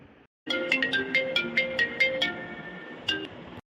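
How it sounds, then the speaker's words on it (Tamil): A phone ringtone plays close and loud, a bright electronic melody of quick repeating notes that runs for a few seconds, pauses briefly, then resumes. "ஒரு நிமிஷம் இருங்க எனக்கு ஃபோன் அடிக்குது"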